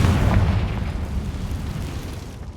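Confringo fire spell explosion in the Hogwarts Legacy video game, a deep rumbling blast already roaring at the start that slowly decays over a couple of seconds, heavy and close.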